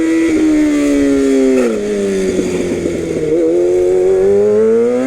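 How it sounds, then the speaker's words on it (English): A motorcycle engine droning steadily, its pitch sliding down as the throttle closes for engine braking with light brake, then rising again, with a rough burbling patch mid-way. "Cut the throttle and just a little bit of brake and engine brake."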